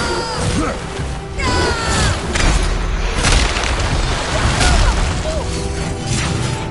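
Fire Valkyrie's attack move in God of War (2018), a dense burst of crashing booms and metallic mechanical impacts with repeated smashing hits, loud and continuous over several seconds, with a voice faintly mixed in.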